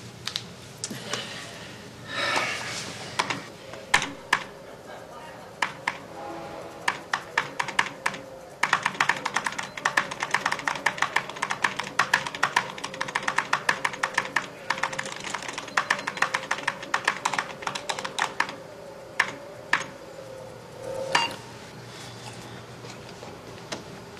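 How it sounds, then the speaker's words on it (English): Rapid clicky keystrokes on a computer keyboard come in bursts and long fast runs with brief pauses, close and fairly loud, with no talking over them. "Just use the keyboard."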